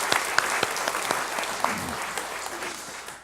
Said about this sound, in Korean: 우리 수고하는 성가대를 위해서 다시 한번 격려하는 마음으로 박수 부탁드리겠습니다